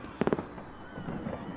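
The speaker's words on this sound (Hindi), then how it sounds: "ये पूरी आतिशबाजी और आधे शहर में खलबली मची है" Fireworks bursting over a city, heard as a quick cluster of three or four sharp pops early on, then a low rumbling wash of distant crackle and murmur fading out.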